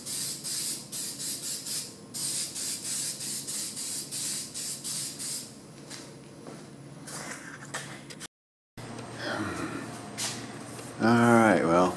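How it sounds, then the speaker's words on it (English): A can of Bulldog adhesion promoter sprays a light coat onto Jeep TJ parts in short repeated hissing bursts, followed by a pause, then handling noise and a squeaky rub near the end. "we're going to use a little Bulldog adhesion promoter to help the paint stick. Just a light coat all over"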